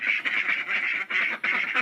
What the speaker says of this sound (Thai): อันนี้เป็นเป็ดพันธุ์ไทยแท้